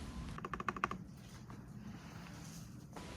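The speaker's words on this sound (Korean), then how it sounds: "이거는 한성 키보드의 보글보글 소리와 다르게 사람들이 조약돌 키보드 소리라고 부르더라고요." A pebble-sound mechanical keyboard clacks in a quick burst of keystrokes followed by a few scattered taps, close and fairly quiet in a calm room.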